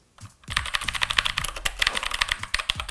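Rapid, loud typing on a Red Dragon gaming keyboard, a dense run of sharp clacking keystrokes close up with no talk, starting after a brief pause.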